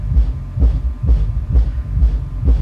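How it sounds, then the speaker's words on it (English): A home theater subwoofer fed only content at 80 Hz and below through an external active crossover and amplifiers, producing a loud, deep rhythmic thumping pulse that repeats about twice a second, with no voices. "what you can hear is 80 hertz and below."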